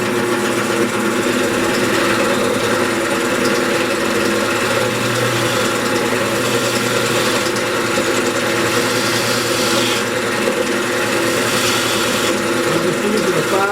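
A wood lathe spins a mahogany candy dish while a 5/8 bowl gouge hollows it, a steady whirring motor hum with continuous scraping cutting noise throughout, loud and close.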